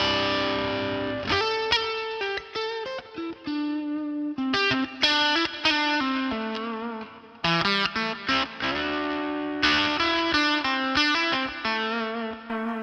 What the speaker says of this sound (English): I've even got a fuzz pedal for this gig.